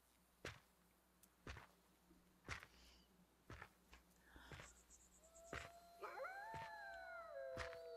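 Wolves howl in a paranormal horror video game, rising and falling wails layered over one another, sounding fairly close and building toward the end, with sharp intermittent knocks and a faint insect-like chirring underneath.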